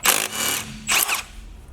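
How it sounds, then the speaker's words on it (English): An impact gun removing axle bolts on a BMW E60 rear axle, two short loud bursts of whirring hammering close by, separated by a brief pause. "I use impact gun to make my work easier"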